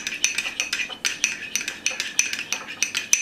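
A spoon clinks against a bowl while stirring blue food colouring, giving quick, repeated bright ticks in an uneven rhythm, close and clear with no talk.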